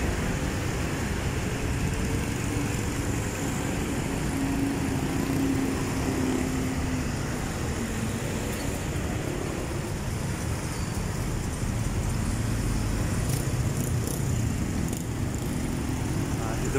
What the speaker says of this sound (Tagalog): napakatindi po ng traffic.